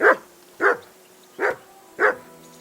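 Mutt, the dog in Kingdom Come: Deliverance II, gives four loud, close barks with short irregular gaps between them, and no voices are heard.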